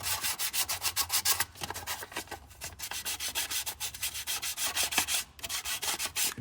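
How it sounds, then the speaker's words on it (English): A 2018 Ford Transit Connect engine block face being scrubbed clean by hand, rapid rhythmic rubbing strokes close up and repeating steadily with brief pauses. "give the block face a nice clean off"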